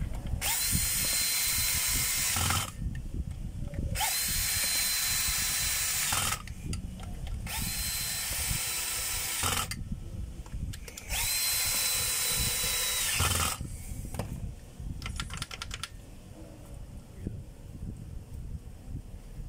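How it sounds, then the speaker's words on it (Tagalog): Power drill driving four screws: several loud whirring bursts of a few seconds each, separated by short pauses, close and clear over faint background noise. "So next yung 4 na tornilyo mga kabay. Yan. So higpitan na natin."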